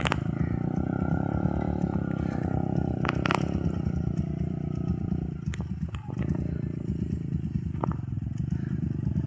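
A motorcycle idles and rumbles steadily beside the Bakbo River, low and continuous with occasional clatters and knocks, while faint voices and outdoor background sounds mix in.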